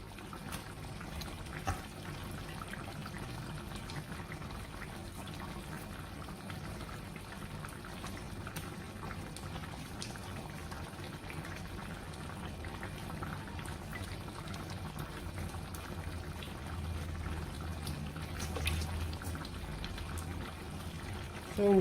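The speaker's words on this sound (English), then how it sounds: "So we'll let the egusi boil a little bit more, then I stir." Egusi soup boils in a pot, a steady low bubbling and simmering that holds throughout at moderate level.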